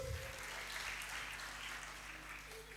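A church congregation at a youth ministry Christmas service applauds, a faint, even wash of clapping heard from a distance with a low hum underneath and no voices on top.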